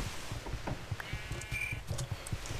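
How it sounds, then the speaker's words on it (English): Sheep in the Minecraft video game bleat several times in quick succession, faint and short, over a quiet game background. "This wolf is killing sheep."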